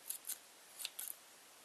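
Scissors snip through yarn loops while a puffy yarn bunny is being made, giving about four quick, faint cuts in close succession with no talking.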